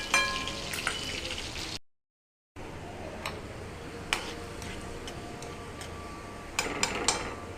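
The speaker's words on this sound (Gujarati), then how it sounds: "ડુંગળી લાલ થાય ત્યાં સુધી હલાવતા રહેવાનું" Onion fries in a pan, a soft continuous sizzle broken by a short gap, with scattered sharp ticks and scrapes of a spoon stirring against the pan.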